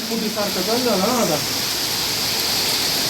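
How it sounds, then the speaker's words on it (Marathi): Steady, dense hiss of heavy village rain fills the whole stretch, with a voice briefly talking at the start. "पाऊस चालू झालाय नुसता परत"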